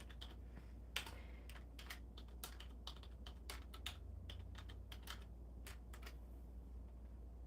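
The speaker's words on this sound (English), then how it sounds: "let me type hello in the chat so I know it's working for me" Quick, uneven keystrokes on a computer keyboard as someone types a short greeting into a live-stream chat, clicking at close range over a steady low background hum.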